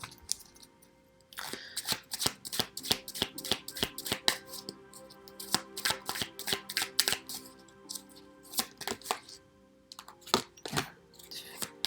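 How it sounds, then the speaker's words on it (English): A deck of tarot cards is shuffled by hand, with quick crisp riffles and slaps coming in irregular bursts, close and fairly quiet, no voice. "I'm gonna pull some more cards."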